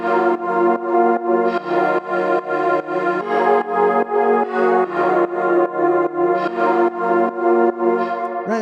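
A two-layer synth pad for a witch house track sustains rich chords that pulse in a steady rhythmic chop, moving by semitone shifts, loud and alone without voices.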